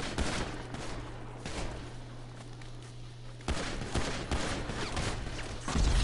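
Gunfire in a PS4 shooter rattles in repeated bursts and sharp cracks over a steady low hum, fairly loud and continuous, with no talking.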